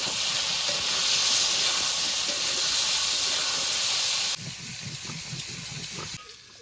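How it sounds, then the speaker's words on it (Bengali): Salted eggplant pieces fry in hot oil, giving a loud, steady hiss that drops abruptly partway through into quieter sizzling broken by scraping stirring strokes. "এবার নেড়ে চেড়ে বেগুনগুলোকে ভেজে নেব"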